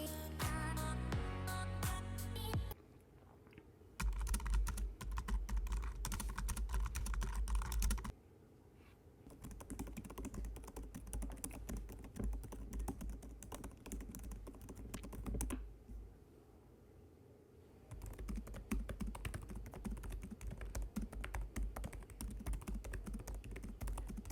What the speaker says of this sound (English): here's a few comparison sounds in terms of typing.